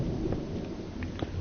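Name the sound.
thunder outside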